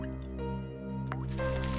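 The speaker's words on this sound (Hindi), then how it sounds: "शायद कुछ टपकने की आवाज आ रही है। शायद लीकेज होगा।" Water dripping from a leak underwater: a single soft liquid drip and squish stands out near the end over a steady humming drone, close and fairly quiet.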